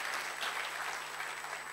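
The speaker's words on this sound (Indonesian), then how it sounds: "Kasih tepuk tangan bagi Tuhan Yesus." Congregation in a church applauding, a brief steady wash of dense clapping with no voices on top.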